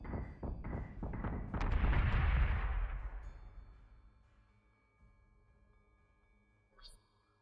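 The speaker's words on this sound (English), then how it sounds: "Missiles incoming!" Missile impacts in the space combat game Battlestar Galactica Deadlock: a quick run of sharp booms builds into a loud rolling explosion that slowly fades, followed by a faint high hiss near the end.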